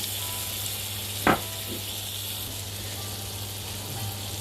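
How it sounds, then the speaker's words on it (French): Butter melting in a pan for a cauliflower gratin bechamel, a soft steady sizzle with a low hum beneath and one brief sharp tap partway through, no voice. "je vais faire fondre du beurre"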